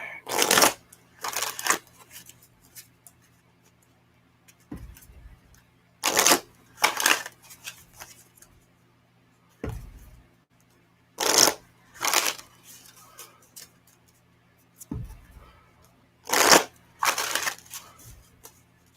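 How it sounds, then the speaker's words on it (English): A deck of cards being shuffled, in repeated bursts of quick riffling and bridging, about two or three shuffles per cycle with short pauses between, close and crisp with no voices. "people can see me actually shuffling the cards"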